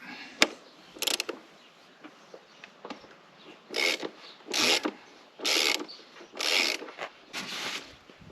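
A 36 mm socket on a ratchet wrench works loose the oil filter on a Mercedes W210 E290 during an engine oil change, giving bursts of ratcheting clicks and rasping metal in a repeated rhythm, close and fairly loud.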